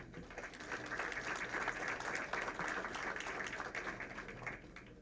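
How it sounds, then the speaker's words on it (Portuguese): A conference audience at an aviation industry panel gives sustained applause as a participant is introduced, a dense, even patter of clapping heard from some distance at low volume. "o senhor Tarcísio Gargione, da Avianca, a quem eu peço uma salva de palmas."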